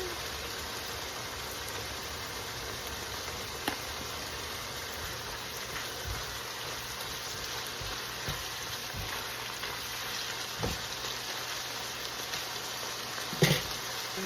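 Pork and greens with soy sauce fry in a pan with a steady, even sizzle that holds throughout, broken by a few faint clicks and taps, with no voices.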